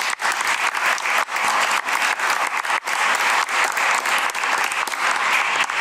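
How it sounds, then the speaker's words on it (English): Sustained applause fills a school board meeting room as the audience claps for a colleague's promotion, a dense, steady wash of many hands lasting throughout with no break. "you can join me in clapping for Peter"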